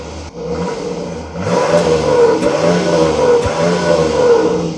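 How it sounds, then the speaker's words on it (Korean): A Jeep Grand Cherokee L six-cylinder SUV exhaust rumbles loudly and continuously with a steady, throaty tone, swelling slightly as the vehicle revs, with no voices over it. "6기통이라서 그런지 이 오글오글 거리는 이 지금 배기음이 있거든요"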